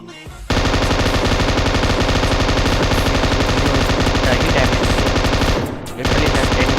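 Sustained rapid automatic fire from an M249 machine gun in a video game rattles nonstop for several seconds, dipping briefly near the end before resuming, loud and close.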